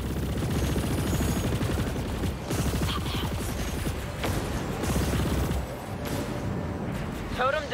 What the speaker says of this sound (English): I'm heading over now to lay down some cover fire